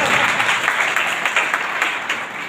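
Sustained clapping rises from an audience during a sermon, a thick, even roar of many hands at close range with little else audible.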